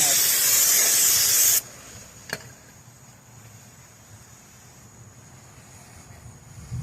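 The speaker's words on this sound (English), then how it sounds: "I have to clean with the brake cleaner, because there's small layer, the oil layer, which has to be cleaned with a brake cleaner" Brake cleaner sprayed onto a brake rotor on a 2016 Hyundai Tucson, a loud, steady aerosol hiss lasting about a second and a half before cutting off, followed by quiet garage ambience and a faint click.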